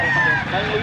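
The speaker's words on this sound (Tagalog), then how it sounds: "Ano pa lang to, mga stag pa lang to, mga idol ng mga stag." Young gamecock stags at a rooster auction in Pampanga give a brief crow with some clucking, close and fairly loud over a busy background of birds and people.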